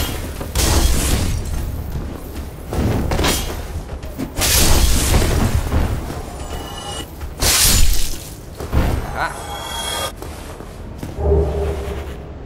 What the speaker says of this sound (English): Fire bombs.